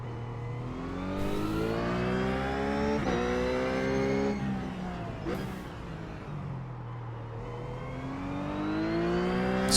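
A race car engine in the iRacing sim, Blancpain Sprint Series, screams loud and steady, with rising revs broken by quick gear shifts and falling pitch as it drops down the gears, then climbing again.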